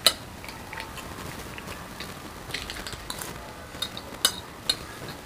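A spoon clinks lightly against a plate of Nigerian jollof rice during a meal, small scattered metallic chinks over a steady background hiss, close but faint.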